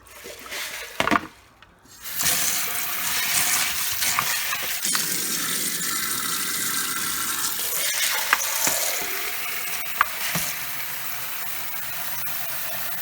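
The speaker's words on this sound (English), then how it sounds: "So wash the seeds like this." Mung bean seeds are swished and rinsed in water in a kitchen sink, with a steady wet sloshing and rushing that runs on without pause after a brief opening splash.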